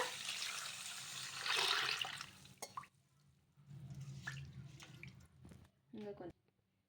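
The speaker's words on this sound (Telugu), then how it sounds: "ఇప్పుడు ఇందులోకి నీళ్ళు అయితే వేసుకొని నైట్ అంతా కూడా నానబెట్టేసుకుందాం" Water poured over washed millets in a container to soak, a splashing pour for a couple of seconds, then quiet shuffling and a voice talking.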